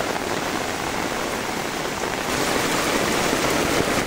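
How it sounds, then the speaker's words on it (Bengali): A downpour of heavy rain drums continuously on surfaces around a waterlogged yard in Kaharol, Dinajpur, a loud, unbroken wash of droplets that swells slightly toward the end, without any speech. "দেখুন কি পরিমাণ বৃষ্টি।"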